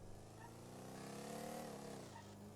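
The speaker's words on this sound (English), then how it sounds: "I also just like the sound of this car too. Love a good muscle car roar." Muscle car engine in a roleplay driving game, a steady low rumbling roar that swells slightly and then eases, faint and continuous, with a voice speaking over it.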